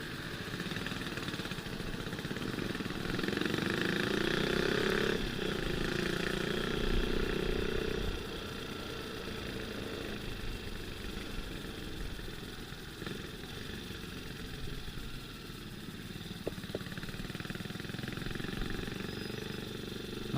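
A Suzuki GSXR 600 motorcycle with poor engine compression idles at a distance, giving a soft, steady low drone that swells slightly for a few seconds and then settles.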